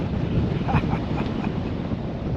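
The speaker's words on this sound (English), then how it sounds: "Oh, that wind!" Strong gusting wind buffeting the microphone on a fell walk around the Kentmere Horseshoe, a loud, constant low roar with no clear talk.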